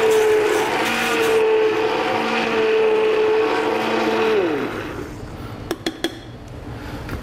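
An immersion blender purees tomatoes, basil and garlic in a steady loud whir. Its pitch drops as the motor winds down, then a few short clinks follow.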